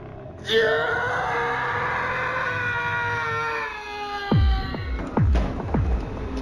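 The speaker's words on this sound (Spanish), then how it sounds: "El tenso silencio se cortó con este grito." A long, drawn-out scream rises sharply and wails for several seconds, followed by a few heavy thuds or knocks near the end.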